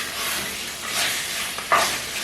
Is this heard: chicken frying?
yes